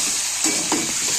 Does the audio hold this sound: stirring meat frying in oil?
yes